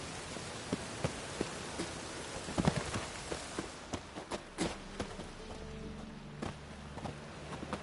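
Soft, steady rain patters down in the city of Novigrad in the video game Witcher 3, with scattered sharper drops landing on surfaces, fairly quiet and continuous throughout.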